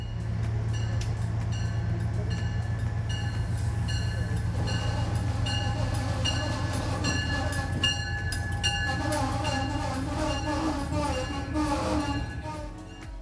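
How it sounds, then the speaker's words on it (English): Metro North Hudson Line train pulling into a station, a loud rumbling roll with rhythmic wheel clatter, then rising brake squeals and screeches as it slows to a halt. "Our train squeals to a halt and we can climb aboard."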